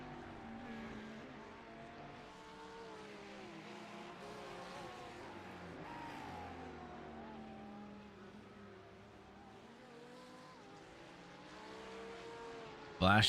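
GT race cars in a sim racing game, engines droning steadily with shifting pitch as cars run in traffic, under continuous race commentary.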